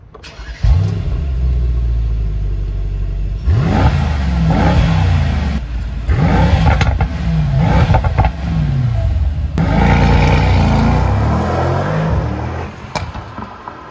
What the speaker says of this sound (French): je vous propose juste dans un instant d'écouter la sonorité de ce V8